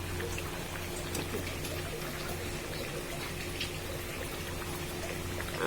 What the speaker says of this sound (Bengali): এরপরে বড়াগুলো দিয়ে দেব দিয়ে দু মিনিট ফোটাবো